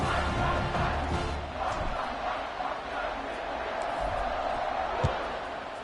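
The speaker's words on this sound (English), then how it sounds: "this crowd is buzzing after that last score" Football stadium crowd buzzing after a score in a tied game, a steady broad roar of many voices held throughout, with one sharp thump near the end and commentary running over it.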